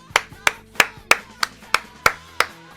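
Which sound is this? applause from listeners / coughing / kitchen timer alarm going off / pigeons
applause from listeners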